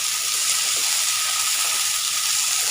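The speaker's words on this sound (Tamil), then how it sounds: "இந்த தக்காளியும் நல்லா வதங்குற அளவுக்கு இதை வேக வைங்க." Tomato frying in a pan with ginger and garlic for palak paneer, a steady, bright sizzle with soft hissing and faint crackle that holds evenly throughout.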